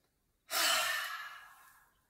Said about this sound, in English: So let's take a big inhale.